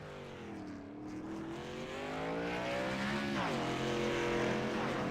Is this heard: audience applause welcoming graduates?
no